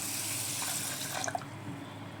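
Water pours from a tap into a bowl of washed rice to soak it, a faint close running trickle with a few small splashes and drips near the end.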